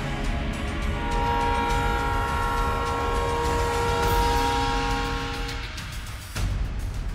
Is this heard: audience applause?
no